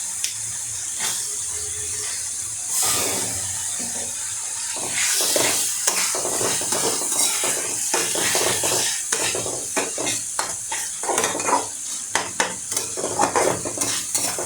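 Baim (eel) fish and tomato fry in a pan with a steady sizzle. A utensil stirs them throughout, making repeated scraping clatters that grow busier in the second half.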